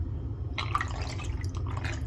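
Vinegar poured into a pot of beef bone broth, a light splashing trickle of liquid that starts after a brief pause and continues in small drips and gurgles, close and fairly quiet.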